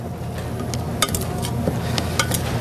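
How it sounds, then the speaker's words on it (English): Onions caramelizing in a pan with fresh butter or margarine are stirred, giving a steady close sizzle with scattered light scrapes and clinks of the utensil against the pan, no talking. "Give it a stir."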